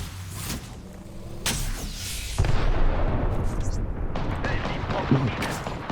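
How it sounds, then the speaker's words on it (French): Explosive blasts from a thermite grenade in the video game Apex Legends, with sharp bursts near the start and a sustained loud roaring, crackling burn that fills the rest of the stretch. "Grenade thermique lancée."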